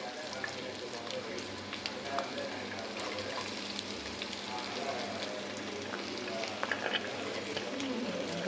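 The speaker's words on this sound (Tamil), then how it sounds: "இப்போ அந்த பூண்டை சேர்த்துடலாம். இப்போ வெங்காயத்தை சேர்த்துக்கலாம்." Onions and garlic fry in spices in a pan for mushroom biriyani, making a steady close sizzle with light crackling throughout while a person talks over it.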